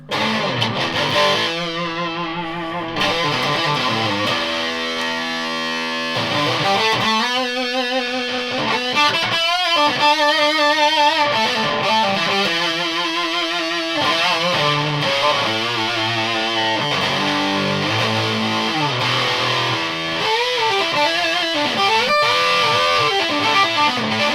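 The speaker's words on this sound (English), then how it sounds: "what does it sound like with a super wee Delamo fuzz pedal?" An electric guitar through a Delamo fuzz pedal plays a melodic riff with fuzzy, saturated, heavily distorted tone, sustained notes and bends, loud and upfront with no voices.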